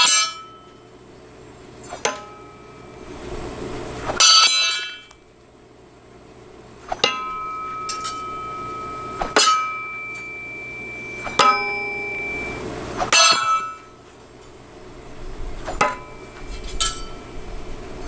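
Southern Grind WASP throwing axes striking a target, producing a series of sharp metallic impacts with bright ringing tails, several separate hits spaced a few seconds apart against quiet background.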